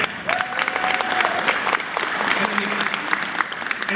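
A convention audience in La Crosse, Wisconsin breaks into loud, sustained applause, a dense crackle of many hands clapping together that stays strong throughout.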